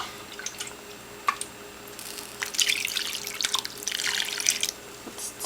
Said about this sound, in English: And I am going to add some more water.